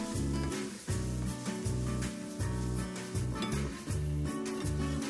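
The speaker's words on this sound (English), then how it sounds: "Add the mushrooms and onion and cook until the mushrooms are tender and all the liquid is evaporated, stirring often" Mushrooms and onion cooking in a pan, stirred often, with rhythmic clinks and scrapes of a utensil against the pan over a soft sizzle, close and steady.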